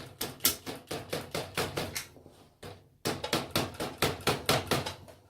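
Repeated whacking on a metal ring inside an old TV scrap part: a fast series of sharp, close knocks, about a dozen, a brief pause, then another rapid burst of similar blows.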